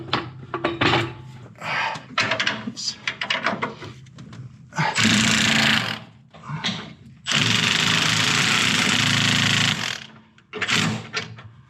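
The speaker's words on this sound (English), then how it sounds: "Now I'm going to jack up the control arm and we'll retighten them at ride height." Jacking up the lower control arm on a Chevrolet Tahoe brings loud, sustained bursts of mechanical machine noise, with shorter clattering and rattling between them and a final brief burst near the end.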